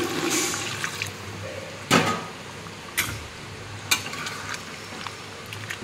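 Hot water poured into a curry in a pan, a rushing pour and bubbling sizzle with a few sharp clanks of a utensil against the pot, close and steady throughout.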